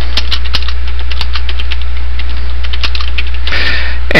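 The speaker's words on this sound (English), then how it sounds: "You can type in comments about the game" Typing on a computer keyboard, irregular clicking keystrokes up close over a steady low electrical hum, with a quick burst of taps at the end.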